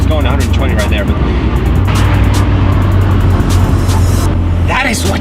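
A 2016 Mazda MX-5 with a 2.0 engine cruises at speed, giving a steady loud engine and road roar, with a person talking over it throughout.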